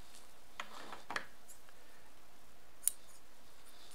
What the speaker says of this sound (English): Snip these apart, okay?